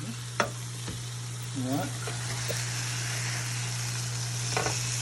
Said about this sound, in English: Those are sizzling, so I'm gonna flip these real fast